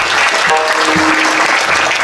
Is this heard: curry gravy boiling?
no